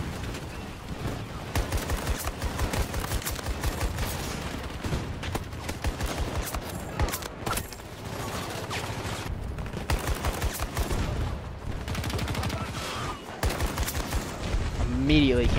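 Sustained gunfire from Battlefield 2042, with bursts of rapid automatic shots and dense volleys rattling close and loud across the whole stretch, punctuated by brief pauses, while a voice talks over it at times.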